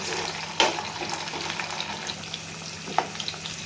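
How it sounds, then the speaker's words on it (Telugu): Chana dal, cumin and mustard seeds tempering in hot oil, a soft steady sizzle broken by a couple of sharp scraping strokes as the mixture is stirred. "పచ్చనిపప్పు జీలకర్ర ఆవాలు వేసిన తర్వాత ఒకసారి ఇలా కలుపుకోవాలి"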